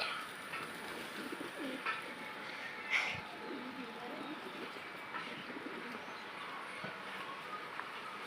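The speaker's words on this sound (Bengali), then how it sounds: "আমি কবুতরকে খাবার দিচ্ছি" Pigeons, both white and black, coo softly while being fed, a faint, low murmuring set against steady ambient noise with a few brief louder knocks.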